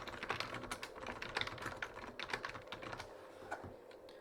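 Quick, irregular keystrokes clatter on a computer keyboard while code is typed, close and fairly quiet, a steady run of light taps with no voices.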